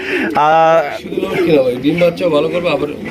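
Lakha pigeons in a pigeon collection give low, throaty coos that rise and fall in a steady rolling murmur, close and fairly loud, with a brief harsh buzzing burst near the start.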